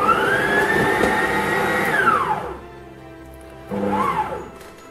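Electric stand mixer with a creaming attachment beating butter and sugar at a very low speed for buttercream, a steady close motor whir with rising and falling pitch that drops away, then starts again briefly.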